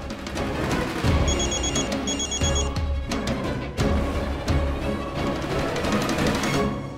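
A telephone bell rings in short repeated bursts over a loud, busy background of music and noise in a TV drama scene.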